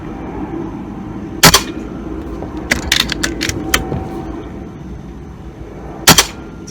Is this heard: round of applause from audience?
no